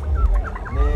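A silkie chicken clucks at an agricultural exhibition, giving a run of close, loud, warbling clucks over a low rumble of crowd noise.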